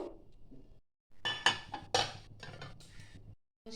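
A lid being set over a bowl of marinated chicken in a kitchen: a few close, bright clinks and knocks of dishware in quick succession, separated by short silences.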